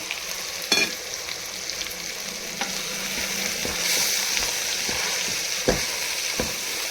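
Homemade vangibath spice powder frying in a pan for cooker vangibath, a steady, fairly loud sizzle with scattered sharp clicks and scrapes of stirring.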